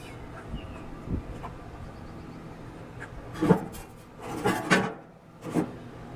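Metal grill grates are set back onto a lava rock grill, producing a few scattered clunks and scraping knocks, louder toward the end.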